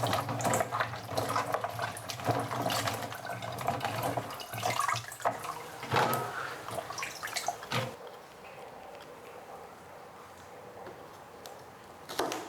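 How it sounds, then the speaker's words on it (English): Tap water running while okra (ladies' fingers) are rinsed in a kitchen, a steady splashing stream with small knocks that tapers into quieter dripping near the end. "First, rinse the ladies' fingers and then dry them with kitchen"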